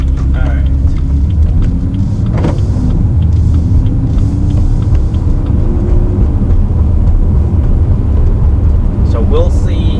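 Several cars pass on a road outside a parked 2017 BMW M2, a steady low rumble that swells and fades, with a person talking over it.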